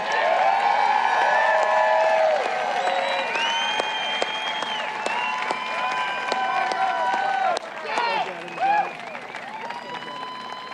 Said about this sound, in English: a round of applause for President Trump